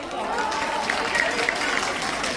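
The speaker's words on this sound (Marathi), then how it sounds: "टाळ्या वाजल्या का?" A crowd claps steadily at a Lokmat Sakhi stage show, a dense continuous patter with some vocal noise riding over it.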